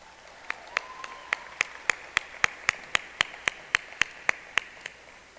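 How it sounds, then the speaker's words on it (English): Single person clapping for a graduate at a school graduation ceremony, a steady run of about twenty crisp, evenly spaced claps, close and fairly faint, with a short brief tone near the start. "You can applaud as you'd like."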